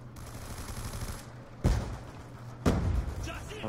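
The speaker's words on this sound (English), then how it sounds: "they're all using light machine guns" Light machine gun fire in Call of Duty Black Ops 2: two sharp, heavy bursts about a second apart over a steady low hum, close and loud against the quieter background.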